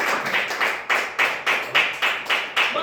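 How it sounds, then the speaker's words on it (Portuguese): A church congregation claps in rhythm to welcome a minister, a steady series of sharp, evenly spaced beats with no voices over it. "receba o ministro com palmas para Jesus."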